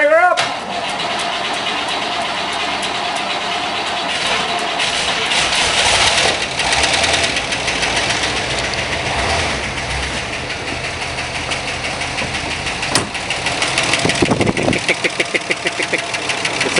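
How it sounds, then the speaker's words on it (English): A car engine cranks and catches, then settles into a steady idle with a slight knocking rhythm from a lifter tick while a person talks over it. "crank her up."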